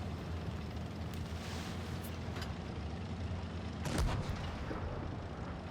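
A T-34 tank cannon fires once in WoT Blitz, a muffled, booming shot partway through, set against a steady low rumble of engines and battlefield ambience.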